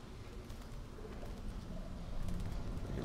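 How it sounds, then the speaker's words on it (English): Pigeons coo softly amid a dense, steady outdoor ambience in The Last of Us video game, a low, muffled, continuous background with faint rustling and no talking. "No, birds."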